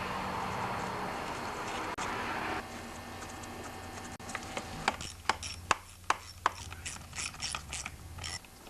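A ratchet tightens the two 5/16 nuts on the carburetor cover of a Stihl MS 250 chainsaw. It gives a run of sharp, close, evenly spaced clicks over a low background hum.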